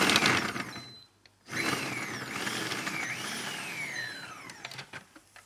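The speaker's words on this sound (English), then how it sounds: "lid goes on and I'm going to puree them" A blender purees strawberries with rice malt syrup, a loud steady whirring drone with rising and falling pitch sweeps, after a brief pause near the start.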